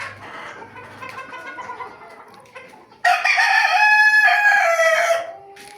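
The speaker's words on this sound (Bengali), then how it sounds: "এই যে এখানে 135টা মুরগি আছে।" Chickens on a rooftop farm with 135 birds, soft scattered clucking at first, then a loud close rooster crow bursting in and holding for about two seconds before fading back to quieter calls, no talking.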